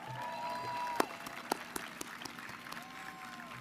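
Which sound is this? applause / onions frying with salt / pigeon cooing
applause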